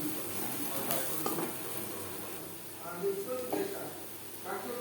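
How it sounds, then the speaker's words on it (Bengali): Onions frying in oil in a pan, a steady sizzle with occasional stirring scrapes, while someone speaks over the cooking. "পেঁয়াজ বেশ ভালো করে ভাজা হয়ে গেছে।"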